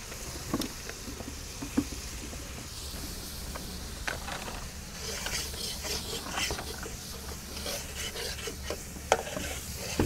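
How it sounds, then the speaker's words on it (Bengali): Spices with garam masala and salt are stirred and scraped around a wide karahi over an outdoor fire while cooking prawns, giving a continuous rasping, rubbing sizzle with occasional clicks. "মশলাটা কষানো চলছে"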